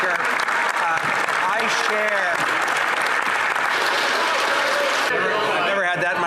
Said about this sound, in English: I've never had that much applause